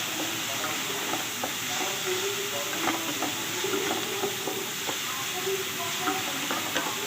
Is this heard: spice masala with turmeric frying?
yes